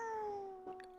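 A house cat gives one brief, falling meow close by, clear and fairly faint, followed by a small rustle with no talk.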